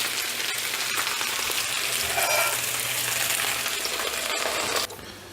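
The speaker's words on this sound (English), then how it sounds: "We're gonna cover it up and fry it on the other side." Potato galette seasoned with pepper and nutmeg frying in a pan, a steady close sizzle and crackle that drops suddenly near the end as the lid goes on.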